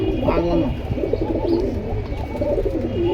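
Pigeons, including a female Marshal pair offered for sale, coo in low, rolling phrases close by, with a person talking alongside them.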